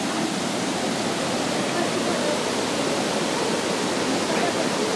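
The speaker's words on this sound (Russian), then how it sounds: "и все, вот он, молочный водопад." Milky Waterfall in Abkhazia roaring steadily at close range, a dense unbroken rush of falling water that fills the whole clip without pause.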